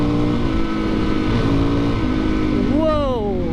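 A Honda CRF250L Rally dual sport motorcycle engine pulls hard with a steady, loud drone, rising in pitch toward the end as it revs up; wind rush fills the background and a rider's voice comes through over the engine.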